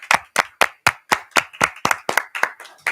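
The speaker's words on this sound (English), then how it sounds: "applause. Congratulations." Applause at a school board meeting, heard as a run of about a dozen crisp, evenly spaced hand claps close by, loud and distinct with short gaps between them.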